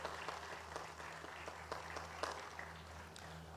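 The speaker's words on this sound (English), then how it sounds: "So I want you to give them a round of applause" Faint applause rises from the audience at a memorial celebration, scattered clapping over a low steady hum that continues evenly for a few seconds.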